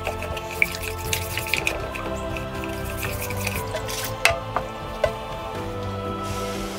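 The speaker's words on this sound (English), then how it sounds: "Now I'm just giving that a good rinse out." Water splashing and dripping while the inside of a homemade medieval drinking horn tankard gets rinsed out at a sink, a steady tap flow with scattered drips and knocks, up close and without talk.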